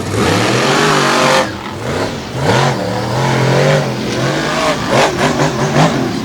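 Monster trucks Overkill Evolution and Black Stallion race side by side at a 2020 Evansville show, loud engines roaring and revving with rising and falling pitch, near and powerful, under a crowd-filled arena ambience.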